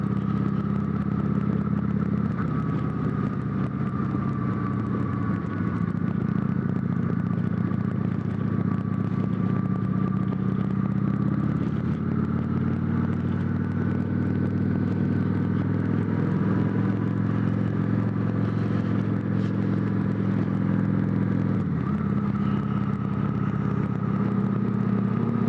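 Kawasaki Vulcan 900 cruiser motorcycle on the road, a continuous low engine drone with wind rush, steady and close, subtle changes in pitch as it rides, with no talking.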